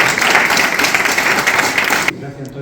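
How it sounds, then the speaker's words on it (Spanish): An audience loudly applauds the speaker after a talk on gunpowder alchemy in the Middle Ages. The clapping is a dense, sustained burst that cuts off abruptly near the end. "un fuerte aplauso para él"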